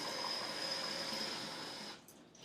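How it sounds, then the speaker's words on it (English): Tap water runs steadily into an empty tomato sauce can in a kitchen, a soft continuous pour that stops abruptly near the end. "an empty can of tomato sauce with a can of water."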